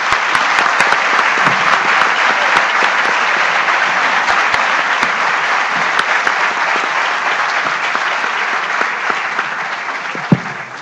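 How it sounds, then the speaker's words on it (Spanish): A loud, dense burst of applause fills a hall as an audience at a legal conference claps steadily and continuously, holding at an even level for the whole stretch. "Yo les pido un gran aplauso mientras se para el doctor Ricardo Lorenzetti."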